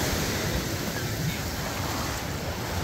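Surf rolling onto a warm-water beach in St. Thomas, US Virgin Islands, a steady broad wash of waves with wind buffeting the microphone, continuous and fairly loud with no clear breaks.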